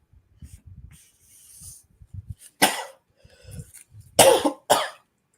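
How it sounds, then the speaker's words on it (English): Several sharp, loud coughs burst out between stretches of quiet mumbling, with a couple of throat-clearing noises in the middle. "I had to cough"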